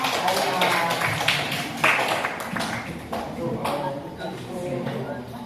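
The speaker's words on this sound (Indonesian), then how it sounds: "Tepuk tangan dulu dong untuk Dea." A school class claps for a student, a scattered patter of hand claps that runs throughout, with voices talking over it.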